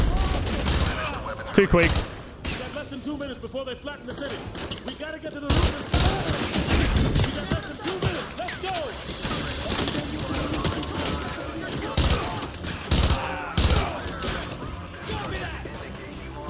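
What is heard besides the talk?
Vector gunfire in video game Call of Duty Modern Warfare 2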